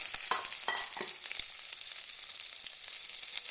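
Sliced onions, mustard seeds, dried chillies and curry leaves fry in hot coconut oil for a chicken curry, a steady close sizzle with a few crackling pops early on and no talking.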